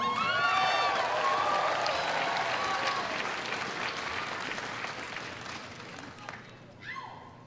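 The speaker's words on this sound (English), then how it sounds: "I want you to give a huge round of applause" A crowd at a convention dance competition gives loud applause and cheers for the next performer, a dense roar of clapping with shouting voices that gradually fades near the end.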